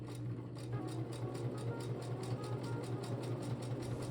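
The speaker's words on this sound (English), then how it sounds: "while you're watching me sew this crotch seam" A sewing machine stitches the crotch seam of pink trousers, running steadily with a fast, even mechanical rhythm and a low motor hum, close and continuous without any talk.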